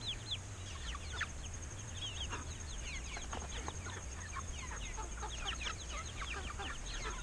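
Meat chickens cluck and chirp in a busy, continuous chorus inside their cage, many birds overlapping at close range over a low, steady background hum, with no talking.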